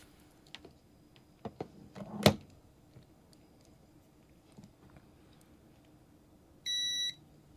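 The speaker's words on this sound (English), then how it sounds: "I'm just going to go ahead and set this for a continuity test" An Aneng 8008 multimeter set to continuity gives one steady electronic beep lasting about half a second, near the end, after a few quiet handling clicks and taps.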